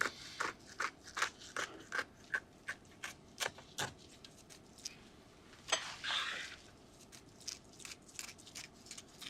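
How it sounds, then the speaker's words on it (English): A series of crisp scissor snips cutting along the fins of a Dover sole, evenly spaced at first and then more irregular, close and fairly faint in a quiet room. "You just take a pair of scissors and cut up that side."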